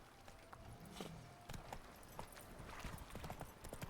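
Video game hoofbeats of the horse Roach galloping, a quick run of clip-clop thuds over a steady background bed, with the occasional brief bright click.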